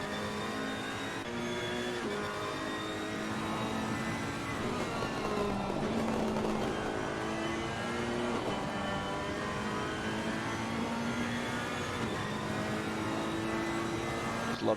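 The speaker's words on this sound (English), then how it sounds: "Just love to hear that Ferrari noise" Onboard Ferrari race car engine in a racing video game during an endurance event at Zolder, a steady high-revving wail with rising and falling gear pitches throughout, loud and continuous with no talking.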